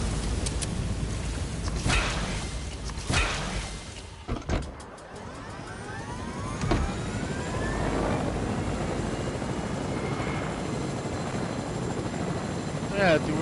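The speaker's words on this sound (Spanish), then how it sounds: "Se está cayendo el helicóptero." Helicopter crashing in a PS4 video game: a whirring rotor drone with sharp impact bursts and a sweeping falling tone, under excited gamer talk and game noise.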